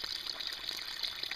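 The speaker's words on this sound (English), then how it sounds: "It's actually this drain pipe makes a nice washboard. So as long as this water is running," Water runs steadily out of an outdoor drain pipe, splashing with a light, continuous trickling patter heard at close range and no talk.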